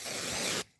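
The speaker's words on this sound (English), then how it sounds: "Need a new kind of spray." Aerosol can sprayed at a fly, a single close hissing burst lasting just over half a second before cutting off abruptly, with no voices.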